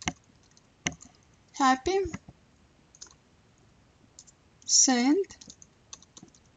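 Typing on a computer keyboard while making a St. Patrick's Day image in Adobe Photoshop CC, a few sparse soft key clicks scattered between spoken words.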